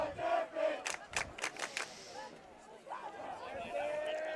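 Durfee fans at a boys high school soccer round-one playoff against Natick shout a rhythmic crowd chant of several claps and cries, with a voice talking over the crowd noise.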